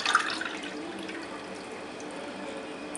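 Warm water pours and splashes briefly at the start for kneading pizza dough, a short faint trickle that fades into quiet room tone.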